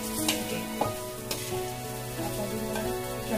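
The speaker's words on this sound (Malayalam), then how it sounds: "ഇവിടെ ചിക്കൻ ഫ്രൈ ആവുന്നത് ഫോർ ബട്ടർ ചിക്കൻ." Chicken pieces frying in a hot pan for butter chicken, a steady close sizzle with occasional sharp pops and crackles throughout and no talk.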